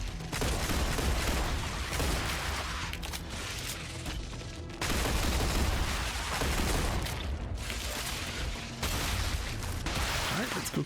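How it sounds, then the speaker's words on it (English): Enemy gunfire in the video game StarRapture comes as a dense, sustained barrage of shots and blasts, loud and nearly continuous with a few short pauses. "Oh, no, we're still getting shot at."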